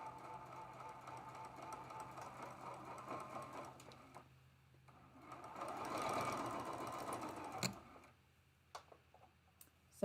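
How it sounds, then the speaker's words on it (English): A home sewing machine stitches seams on a four-patch quilt block with a quiet, steady mechanical whir and ticking. The running grows louder midway, ends with a few clicks, and no one speaks. "And sew these two together."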